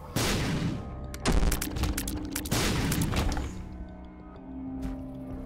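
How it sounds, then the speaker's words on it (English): Bomb explosions in the video game The Binding of Isaac: several sharp, loud bursts with booming low rumble, coming in quick succession and then fading to a quieter background. "I'll just place a bomb."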